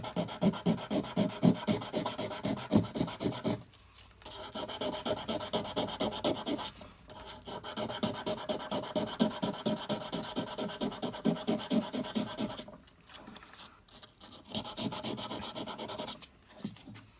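Buck 110 folding knife's pivot pin hand-sanded with 320-grit sandpaper, a steady close rhythmic rubbing with quick back-and-forth strokes, pausing briefly a few times and resuming alone without talk.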